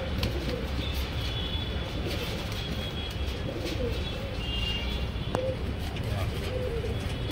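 A large old-bloodline Pakistani Kalsira pigeon coos softly in low, rolling murmurs over a busy, noisy background, with faint chirps from other birds.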